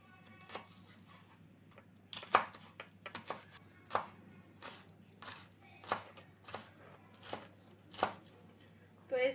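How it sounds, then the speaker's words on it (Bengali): A knife chops vegetables into small pieces for a dinner recipe, making crisp, evenly spaced cutting-board knocks in a steady rhythm with short pauses, close and fairly quiet, with no talking. "তো এখানে কিন্তু সবজিগুলো একদম ছোট ছোট টুকরো করে কেটে নিতে হবে।"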